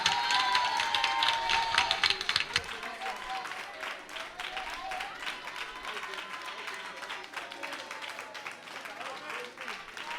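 A church congregation at an evangelistic service claps and cheers steadily, loudest in the first couple of seconds, then settles into sustained applause under a speaking voice.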